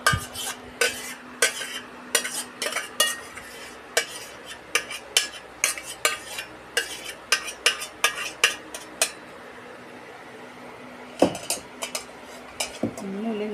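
A spoon stirs a homemade orange soap mixture in a container with steady, rhythmic scraping and clinking strokes, close and fairly loud, which pause briefly before a few final knocks.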